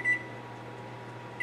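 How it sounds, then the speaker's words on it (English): A kitchen oven timer gives a short electronic beep at the start and another at the end, with a steady appliance hum in between and no speech. "so I'm going to set the timer for"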